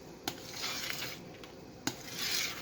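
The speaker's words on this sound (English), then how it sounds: "I've been stirring it for a little while, and it's starting to get thick now" Thick homemade blueberry pie filling is stirred in a pot, with soft quiet scraping and a couple of sharp clinks of the spoon against the pot, faint and close with no talking.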